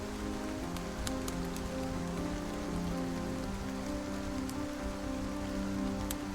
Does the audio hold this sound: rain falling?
yes